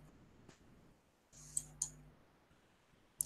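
A computer mouse clicks in desktop modelling software. A few sharp, close clicks are spread over a quiet background with a faint low hum, and no one speaks.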